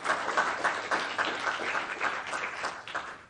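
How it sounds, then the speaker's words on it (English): Audience applause at a university science research forum, a dense burst of many hands clapping steadily for about three seconds, fairly close and loud with no speech over it. "So one more round of applause for everyone, please."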